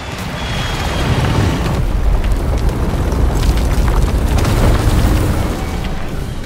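An aircraft explodes after taking enemy fire in the video game Contra: Operation Galuga, a loud sustained roaring blast rumbling for several seconds with crackling debris and no speech.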